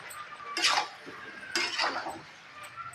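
A spoon stirs tomato into curry in a pan, with two distinct scraping sweeps and light metallic clinks, close and fairly soft, without any talk.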